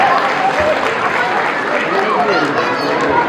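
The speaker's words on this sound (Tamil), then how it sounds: "ஸோ நம்ம எல்லாரும் சேர்ந்து கோரியோகிராஃபர்ஸ் ஒரு பெரிய கைத்தட்டல் கொடுத்துடலாமா?" Audience clapping at a Tamil association's Pongal 2025 celebration in Colorado, loud and sustained, with crowd chatter mixed into the dense, continuous applause.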